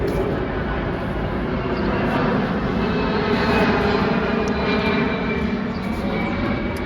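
An airplane passes overhead during an outdoor mini split installation, a steady, loud broadband engine roar that fills the whole stretch with no talk over it.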